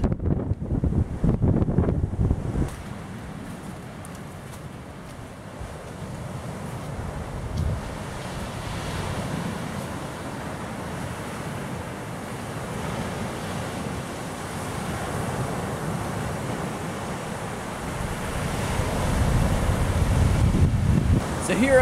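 Ocean surf and gusting wind on a lonely stretch of beach, with a steady roar of waves and heavy wind buffeting the microphone that swells louder near the start and end.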